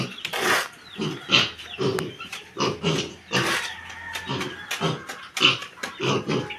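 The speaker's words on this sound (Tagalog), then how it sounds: "Binigyan ko po ng pakain ang biik." A piglet eating its feed in a piggery grunts, snorts and chomps close by in rapid repeated bursts, loud and busy throughout with no talking.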